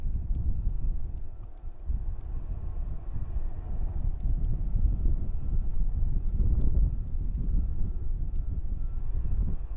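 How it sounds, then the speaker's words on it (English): Steady, loud wind buffeting the microphone with a constant low rumble and no pauses throughout, at the SpaceX Starship site in Boca Chica. "Very windy"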